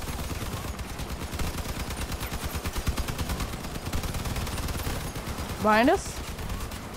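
Rapid machine-gun fire in the vehicle combat game Crossout, a dense rattling stream of shots running throughout, with a short rising whine near the end and a voice speaking briefly over it.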